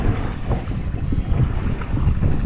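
Wind buffets a boat out on the water, a loud steady rumble of gusts against the microphone with no voices over it.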